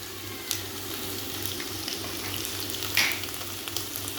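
Cumin seeds sizzling in hot oil for a potato bhujia, a close, continuous crackling fry with a faint low hum beneath and a brief brighter spatter near the end.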